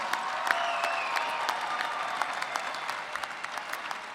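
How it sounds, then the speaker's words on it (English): A commencement crowd applauds UNLV graduates, including Air Force ROTC graduates, with steady, moderately distant clapping that fills a large venue for several seconds, with no talk over it. "Please join me in a round of applause for these UNLV graduates"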